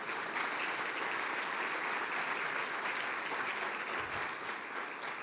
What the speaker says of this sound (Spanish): Puede darle un aplauso a Él por eso.